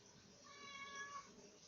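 A single soft, drawn-out meow from a house cat, fairly faint against low room noise, rising and falling over about a second.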